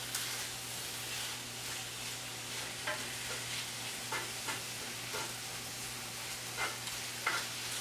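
Beef and vegetables fry in a pan with a steady, fairly quiet sizzle and hiss, broken by a few faint crackles and stirring scrapes, with a low hum underneath and no talking.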